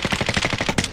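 Rapid gunfire in a zombie video game, a quick burst of repeated shots in about a second, loud and close.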